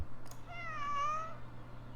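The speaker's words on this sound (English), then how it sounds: "Sad meow." A cat gives a single drawn-out, falling meow lasting about a second, fairly close and clear over a steady low hum in a quiet room.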